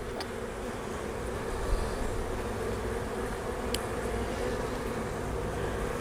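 Honey bees buzz at an opened hive, a dense, steady drone close by that holds level throughout, with a few faint clicks and no talking.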